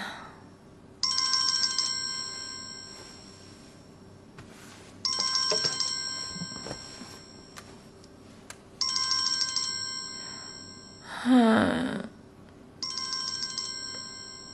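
A phone ringtone plays four bright electronic bursts of about two seconds each, separated by pauses, with a short swooping tone between the third and fourth; nobody answers.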